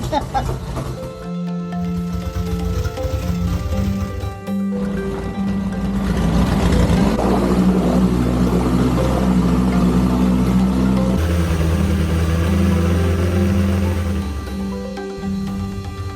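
A boat engine drones steadily with low, sustained tones while cruising to a floating market in Thailand, continuous throughout with a slight shift in pitch midway.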